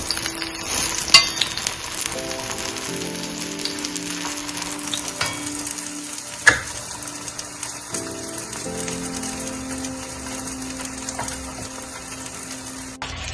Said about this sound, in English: one side is cooked, then we turn it into the second side. And cook it well.